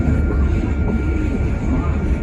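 Nottingham tram 203 rolls through the Bulwell Forest level crossing, a steady low rumble of wheels and motors with a faint high whine, close and continuous, while a voice speaks briefly over it.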